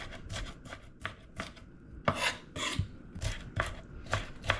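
A kitchen knife chops an onion on a cutting board in a rapid series of crisp, close rasping strokes, about a dozen in an uneven rhythm, with no talking.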